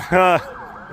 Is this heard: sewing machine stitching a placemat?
no